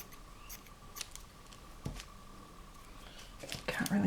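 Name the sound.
scissors cutting book pages and magazine paper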